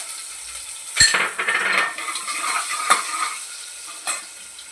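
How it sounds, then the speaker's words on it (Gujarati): Finely chopped onion and potato hit hot oil with cumin and asafoetida in a pan, a sharp clink of the spoon followed by loud sizzling and stirring scrapes that settle into a softer fry, close up with no talking. "હવે આમાં આપણે 1 ડુંગળી અને 1 બટેકું ઝીણું સમારેલું છે એ નાખી દઈશું."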